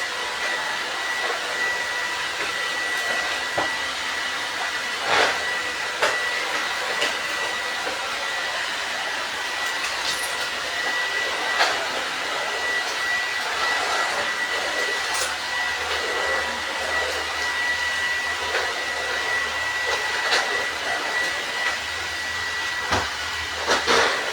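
A vacuum cleaner drones steadily with a constant airy whine and hiss, running without pause throughout, with occasional faint knocks and bumps.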